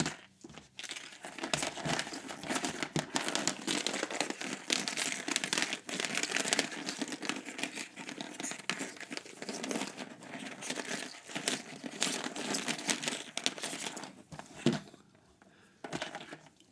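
Plastic game capsules from a Time Capsules board game are shuffled in a bag, giving a steady, dense crinkling and rustling that runs almost unbroken before easing off near the end.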